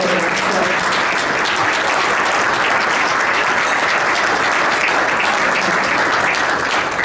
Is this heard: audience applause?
yes